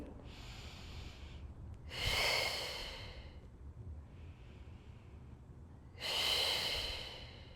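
Slow, deep breaths during a Pilates stretch sound close and airy: a soft inhale, then two long audible exhales with a faint breath between them.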